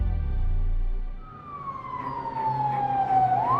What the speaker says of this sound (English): the sounds of sirens